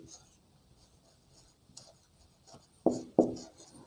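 Chalk or marker writes statements on a board, with soft scratchy strokes and two sharper taps near the end, close and intermittent amid quiet room tone.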